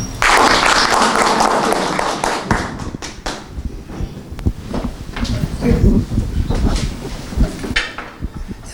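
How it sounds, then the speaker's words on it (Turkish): Audience at a cultural association event claps for a journalist, a loud burst of applause at first that thins into scattered claps and taps, with some voices and rustling underneath. "kendisine de bir alkış alalım"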